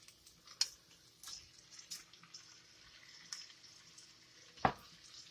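Shrimp frying quietly in a cast iron pot, a faint steady sizzle with a couple of soft clicks and taps of a utensil against the metal.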